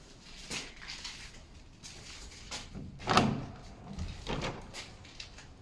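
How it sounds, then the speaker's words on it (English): A big heavy door in Malbork Castle is pushed open with thuds and scraping knocks, one louder bang midway among softer creaks and shuffles, heard fairly close with no talking. "Oh, that's a big heavy door that doesn't swing open."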